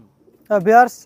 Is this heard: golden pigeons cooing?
yes